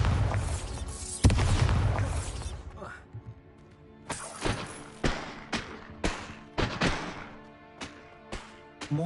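Bombarda spell explosions in Hogwarts Legacy crash and boom in a loud burst, then a series of sharp thuds and blasts follow at irregular intervals, with brief speech among them.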